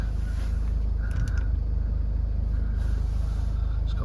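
A Jaguar XF 2.2 diesel with automatic gearbox starts and settles into a steady low idle, loud and close, with faint mechanical creaks and whirs over the engine rumble.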